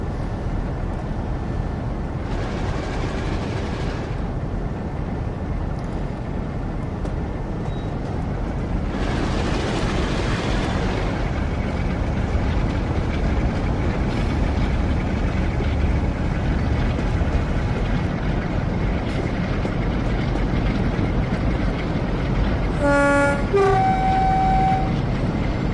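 Class 45 Peak diesel locomotive in the Train Sim World game, a steady low engine rumble running throughout with two bursts of broadband noise and a short horn toot near the end.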